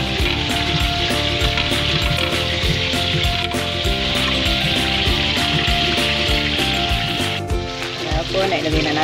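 Sweet potato tops drop into a pot of simmering fish soup, bringing a steady, loud bubbling and sizzling boil with occasional soft clatter of utensils, continuous throughout with faint background music-like tones.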